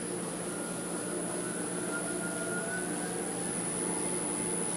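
A wood lathe spins a walnut bowl mounted on a faceplate with a live center at 482 RPM, giving a steady, loud, continuous whirring hum with a high whine and no pauses.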